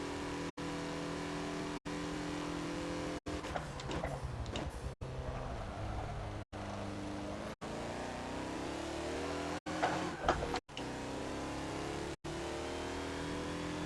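Race car engine from a 2014 Mazda Lola B12/80 in Forza at Virginia International Raceway, loud and close, revving hard with pitch sweeps that drop at each gear change across a steady run.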